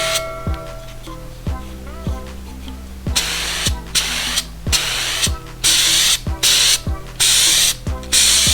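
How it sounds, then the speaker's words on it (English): Air filter oil sprayed onto the cotton pleats of a K&N high-flow filter in repeated short hissing bursts, each followed by a mechanical ratcheting click of the spray can or filter being turned, close and loud with no speech. "We're gonna spray on the pleats."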